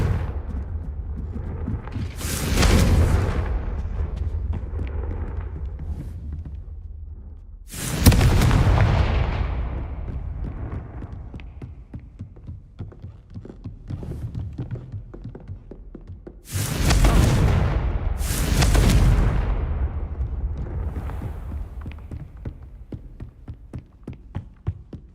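Confringo blasting-spell explosions in Hogwarts Legacy go off as four heavy booms, two pairs several seconds apart, each trailing into a rumbling decay with scattered crackling debris between.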